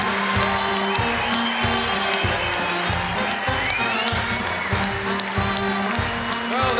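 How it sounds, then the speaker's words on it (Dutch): A crowd at a carnival speech championship final claps steadily for the top three finalists, with some cheering mixed into the dense applause, continuous and fairly loud, alongside a music beat. "nog een fantastisch applaus"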